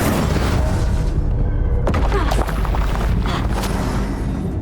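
Spell blasts in Hogwarts Legacy, with Bombarda, Incendio and Confringo cast in combat: loud, dense booming bursts with a sharp crackling impact near the middle, over a steady rumbling bed and no talk.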